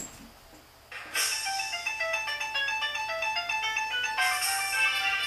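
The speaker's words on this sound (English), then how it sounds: "It's ringing. Answer it." A melodic electronic ringtone plays a repeating chime pattern, starting abruptly after a quiet moment and continuing steadily, fairly loud and close.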